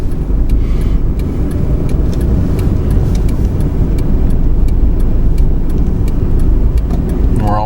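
A car reversing slowly into a bay parking space, a steady close engine hum and road rumble throughout with faint ticking, no voices.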